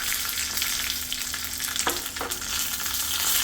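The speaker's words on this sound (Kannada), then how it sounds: "ಈಗ ಕರಿಬೇವು ಸೊಪ್ಪು ಹಾಕ್ಕೊಳ್ಳೋಣ." Curry leaves and mustard seeds sizzle in hot oil with a dense, steady crackling hiss and a couple of brief pops, close up and without talk.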